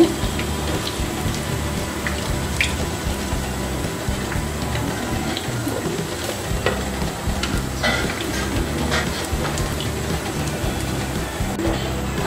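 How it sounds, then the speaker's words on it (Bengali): Chicken pakoras fry in hot oil, giving a steady dense sizzle with scattered small pops and crackles that runs evenly throughout, close and moderately loud with no voices. "আমি বাকি পাকুড়াগুলো এভাবে ভেজে নিব"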